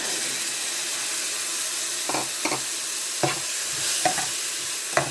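Minced meat and tomato cooking in a frying pan under a steady, loud sizzle, with a few brief scrapes of a spoon stirring through it, close up and without talk.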